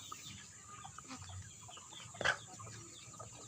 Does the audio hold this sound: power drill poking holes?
no